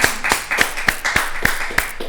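Studio audience applause for guest Justin Buck of Pearl Rolling Company: a small group clapping in a steady, fairly close patter of sharp hand claps, with no talking.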